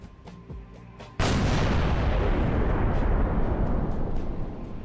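A modded oversized vehicle cannon fires in Halo 3, one sudden heavy boom after soft game sounds, followed by a long loud rumbling roar that barely fades.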